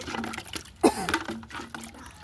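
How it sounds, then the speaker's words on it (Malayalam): Water pours in a brief splashing burst midway, with soft trickling and faint handling noises before and after. "നമുക്ക് ഇതിൽ വെള്ളം നിറയ്ക്കാം. വെള്ളം നിറച്ചിട്ട് നേരെ ഇതിലേക്ക് ഒഴിച്ചു കൊടുക്കാം."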